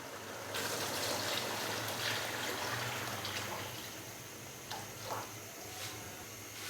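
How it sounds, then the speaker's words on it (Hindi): Water pours steadily into a pot of fried potatoes and chickpeas cooked with spices for aloo chana pulao, a continuous trickling splash that tapers off in the second half, fairly faint and with no talk. "तो अभी मैं इसके अंदर 7 गिलास पानी के डाल दूंगा।"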